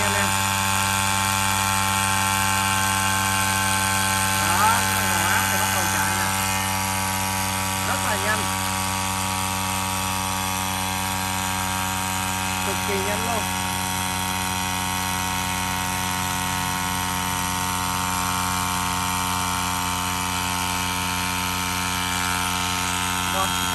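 A small 12V electric tire air pump, powered from a car socket or battery, drones steadily with a buzzing motor hum throughout, someone talking over it now and then.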